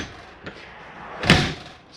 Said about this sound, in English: Slam lock. They work best when slammed.